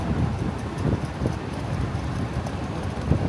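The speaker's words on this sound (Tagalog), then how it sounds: "Ang hangin." Gusty wind buffets a microphone outdoors in Macau, a low, rumbling rush that rises and falls, with no one speaking.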